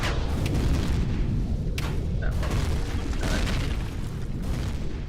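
In the space game Empyrion, a shot-down craft explodes with a loud, sustained rumbling boom and crackling debris that fills the whole stretch without letup.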